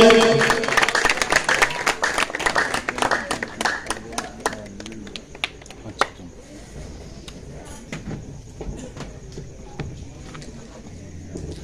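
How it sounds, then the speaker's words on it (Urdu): A church congregation at an evening worship service claps loudly at first, the applause thinning into scattered claps that fade out over several seconds. "خدا کے خادم کے لیے، خدا کے منصوب کے لیے زوردار تالیاں"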